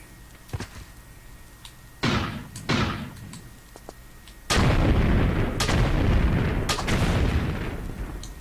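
Enemy gunfire in a Tomb Raider level, with several sharp booming shots, some close together and one followed by a longer rumbling burst, over a quiet ambient background.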